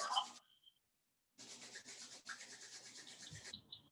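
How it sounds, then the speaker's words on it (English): Hands rubbed together vigorously: a brief rub at the start, a pause of near silence, then a longer run of quick, dry, rhythmic friction strokes, close and soft. "And once again, vigorously rub."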